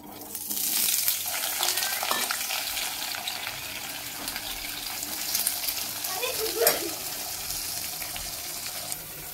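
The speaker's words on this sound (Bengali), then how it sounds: "এবার ভাজবো আলু" Potatoes sizzle and crackle steadily in a hot pan, with occasional stirring clatter and no talking.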